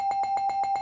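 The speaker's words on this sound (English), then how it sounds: "Yeah, I'll give it the bell." A wrestling ring bell effect with rapid repeated dings, about six quick strikes in under a second, moderately loud and alone.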